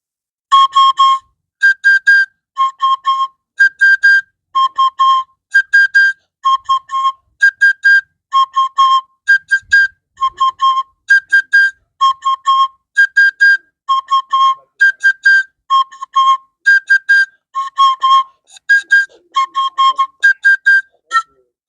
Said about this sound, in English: This is my Oja